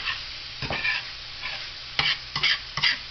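Food sizzling in a Sunbeam controlled-heat automatic electric fry pan, a steady close hiss broken by several sharp scraping and stirring clicks, with no talk.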